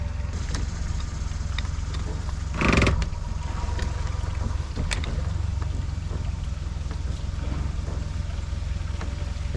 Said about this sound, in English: It's gonna take a few minutes because they have to rotate the gates.